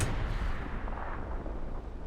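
An HE shell from a tank cannon in Hell Let Loose fires with a single deep booming blast at the start, then a rumbling tail fades over about two seconds, with no one talking.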